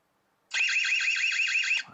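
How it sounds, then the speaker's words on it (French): The outdoor EZVIZ C3X security camera's alarm siren sounds in a single loud, close burst of rapidly warbling, piercing tone lasting just over a second before cutting off abruptly. "Ici, vous allez pouvoir activer l'alarme."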